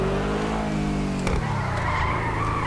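A car in the video game GTA V spins its wheels, a continuous loud tire squeal and engine whine that shifts pitch partway through as the revs change, close with no talk over it.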